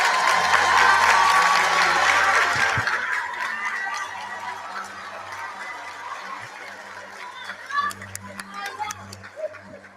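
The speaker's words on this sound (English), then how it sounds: "A round of applause for KwaZulu-Natal." An audience applauds KwaZulu-Natal at South Africa's 2023 matric examination results announcement. The dense clapping is loud for the first few seconds, then fades into a lower crowd murmur with scattered voices.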